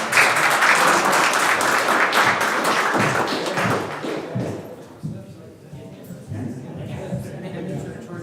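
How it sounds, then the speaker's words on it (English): Applause from an audience at a school board of education meeting, a dense wash of clapping that is loud for the first four seconds and then thins and fades, with voices underneath. "Let's give Aries a big round of applause."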